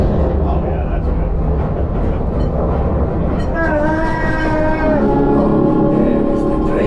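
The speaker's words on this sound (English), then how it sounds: "There is the train." A train on a Disney ride at Hollywood Studios rumbles steadily, with a sustained horn-like tone sounding midway through, loud and close and mixed with other ride effects.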